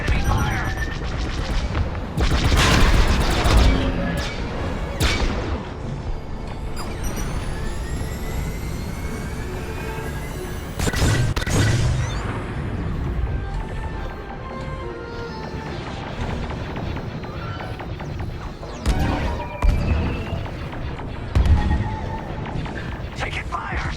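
Enemy fire in Star Wars: Squadrons lands amid a roaring starfighter engine drone, with several loud booming impacts and blasts scattered across the stretch and game voices talking over the action.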